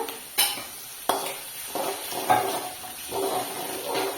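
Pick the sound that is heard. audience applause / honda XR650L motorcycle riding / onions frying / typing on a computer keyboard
onions frying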